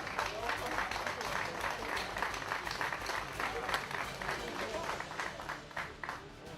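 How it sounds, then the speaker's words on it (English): Steady applause from spectators at the Predator Eurotour Luxembourg Open pool tournament, honouring a winner: a continuous, moderately distant patter of many hands clapping over about seven seconds, easing slightly toward the end. "Give him a big round of applause"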